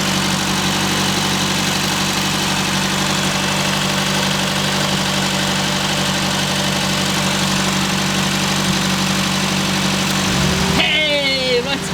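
A cheap project car's overheating engine idles steadily up close with a constant low drone and vibration, and a cooling fan whirs up near the end.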